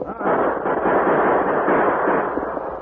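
Sustained gunfire effect in a Western radio drama, a dense, loud roar of overlapping shots running unbroken for a few seconds.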